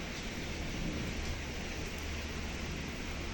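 Steady rain falls during a monsoon downpour outside a home, a dense, even hiss with a low rumbling undertone that runs unbroken and fairly loud throughout, with no voices.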